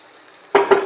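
Hot chili tempering pours into a pan of poori kurma and bursts into a sudden sizzle with two quick splashes, loud and close after a moment of quiet.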